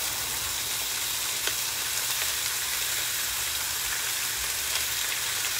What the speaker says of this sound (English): So we can get this bacon going.